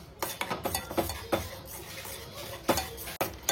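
A spoon stirs food in a cooking pot continuously, giving repeated scraping clinks against the metal in an uneven rhythm, close and fairly quiet.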